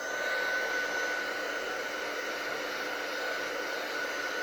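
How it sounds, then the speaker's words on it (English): Heat gun blowing hot air over stamping foam, a steady close-up fan roar and airy hiss with a faint thin tone riding on top, unbroken throughout. "I'm going to come in with my heat gun and I'm going to heat it up."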